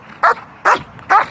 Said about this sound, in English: he knows he's got to bark and stay active